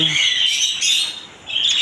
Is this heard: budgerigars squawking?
yes